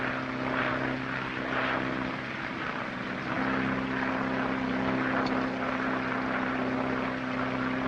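A propeller airplane engine drones steadily, its tone shifting partway through as the engine throttles back and the note changes pitch, a continuous low rumble.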